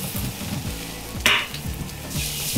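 Mushrooms sautéing in a pan for a mixed-mushroom pasta, a steady close sizzle with rhythmic stirring scrapes and one sharp clatter midway.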